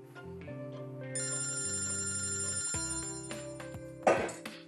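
A telephone ringtone plays in a Turkish TV drama scene, a steady electronic melody over background music, ending with a brief rustle as the phone is picked up.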